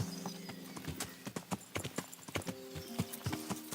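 Horse hooves clip-clop in a steady, fairly close rhythm as a mount rides in Kingdom Come: Deliverance, set against a low, constant game-music drone.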